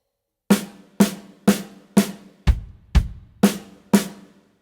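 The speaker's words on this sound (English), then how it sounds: "Let's start by playing all the rhythm slashes just on the snare drum." Snare drum struck in an even beginner pattern of eight clear hits, two of them deeper with a kick-like thump, each ringing briefly before the next, close and alone with no voices.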